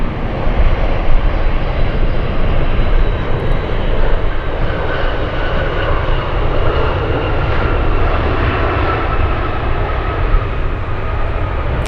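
Boeing 747 Dreamlifter arriving at Anchorage, a steady, loud jet engine roar that holds without a break and carries a broad rushing hiss, with no voices over it.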